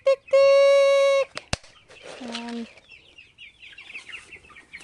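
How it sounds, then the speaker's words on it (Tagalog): Chickens and chicks cluck around a net enclosure. A long sustained call opens the clip, then a sharp knock, clucks and higher chick peeps follow at close range, with scattered quieter bird chatter. "Labas pasok na lang yung mga sisiyo natin sa net nila"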